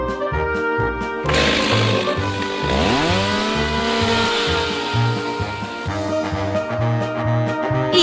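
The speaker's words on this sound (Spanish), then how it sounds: "Este es una sierra eléctrica." A loud power saw runs close by, its motor revving up and down with whining tones and a brief higher-pitched surge in the middle.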